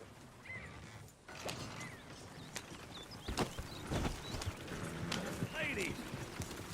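Horses pull a wagon in Red Dead Redemption 2, with steady clip-clop hoofbeats and some wagon clatter running beneath people talking.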